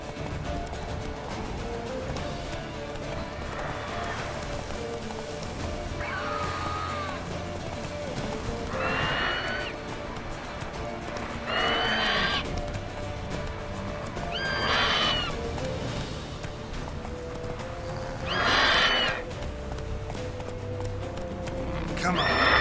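A horse in The Witcher 3: Wild Hunt gallops with steady clip-clopping hooves under a voice, letting out several repeated whinnies and snorts spaced every few seconds.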